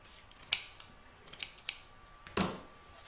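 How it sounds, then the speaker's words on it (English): Scissors snip black fabric while trimming it for a sewn mug rug, with four or five sharp, close cuts spaced irregularly across a quiet background. "That's a little bit large, so I'm just going to trim that down just a little bit."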